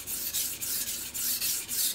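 A knife blade is drawn across a coarse Shapton Pro whetstone in quick back-and-forth strokes, a close, gritty rasping that swells and fades with each pass, about three strokes per second.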